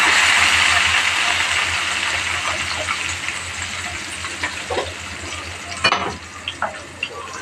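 Shallots and curry leaves frying in hot oil for a drumstick pickle, with a loud, bright, continuous sizzle that gradually eases, then a few scraping stirs and clinks near the end.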